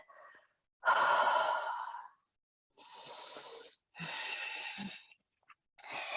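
Slow, deep breaths during a yoga practice: a long audible inhale followed by several breathy exhales and sighs, close and quiet, separated by short silences.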